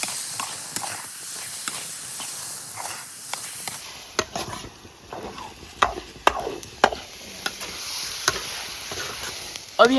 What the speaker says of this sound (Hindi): सभी जो हमने फ्राई किया था बेसन इस चाशनी के साथ अच्छे से मिक्स कर लेंगे।